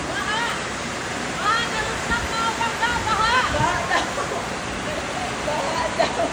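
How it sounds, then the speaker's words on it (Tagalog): Heavy rain pours onto a flooding rooftop, a dense, loud, steady rush filling the whole clip, with faint voices and chirpy sounds poking through now and then. "Sa sobrang lakas nga ng ulan, halos mapuno na ng tubig dito sa rooftop natin."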